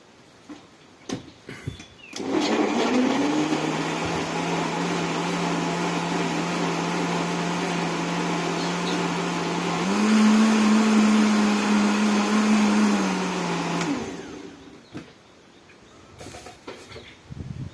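A kitchen blender whirs for about twelve seconds while mixing green leaves, starting abruptly with a steady loud drone and rising slightly in pitch near the end before cutting off, with quiet handling noises around it.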